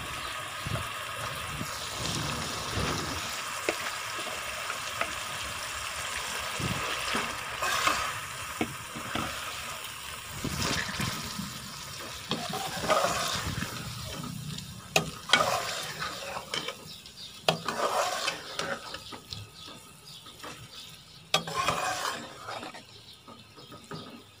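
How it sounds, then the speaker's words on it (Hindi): Yogurt-marinated meat (gosht) frying in oil for chicken jalfrezi, a continuous sizzle with scraping stirs and a brief splash of running water, close up and with no talking. "अब इसमें जो गोश्त दही में डाल कर रखा हुआ था वो इसमें डाल देना है।"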